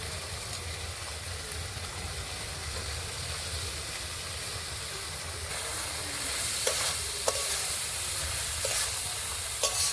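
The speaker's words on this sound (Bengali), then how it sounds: "আলু আর ডুমুরটা ভালোভাবে মশলার মধ্যে কষিয়ে নেব।" Fried potatoes and boiled figs are stirred into a spice masala in hot oil, giving a continuous hissing sizzle with occasional sharp clinks of the spoon against the pan near the end.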